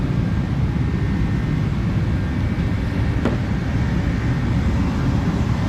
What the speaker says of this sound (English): I've got a heater running in the shop